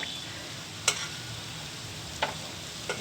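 Gulab jamun dough balls fry in hot oil with a quiet, steady sizzle, broken by three sharp little pops or clinks.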